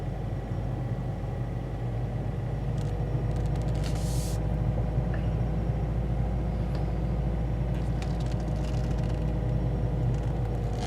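A manual-transmission car rolls slowly in first gear, its low engine drone steady and close throughout, with faint mechanical hiss and rattle above it.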